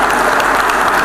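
Dense, continuous applause from an audience at an award ceremony, loud and close, with no pauses or voices standing out.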